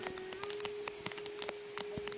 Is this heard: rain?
yes